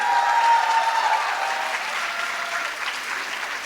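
A live audience at a motivational talk breaks into steady, dense applause that starts loud and tapers slightly while continuing throughout, with no voices over it.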